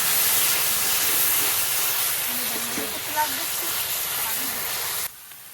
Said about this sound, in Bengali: এবার যত সময় টমেটোর রসটা না শুকিয়ে আসছে তত সময় আমি মশলার সঙ্গে ভালো করে কষিয়ে নেব।